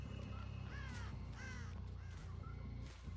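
A crow caws several times in the horror video game Dead by Daylight, harsh calls repeated in short bursts over a constant low droning game ambience, moderately near, with no voices.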